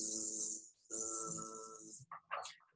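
A voice imitates a bumblebee, producing sustained buzzing hums in two long stretches, close and clear, followed by a few brief breathy vocal sounds.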